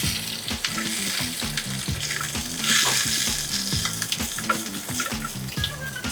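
Lamb shanks sizzle and brown in a hot pan with a steady, close crackling hiss and faint, regular low knocks running under it, and nobody speaks.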